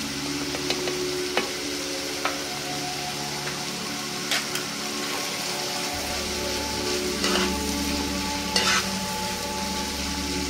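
Tomatoes sauté in a pan, producing a steady close sizzle with a few sharp spoon taps and stirring scrapes over a constant background hum.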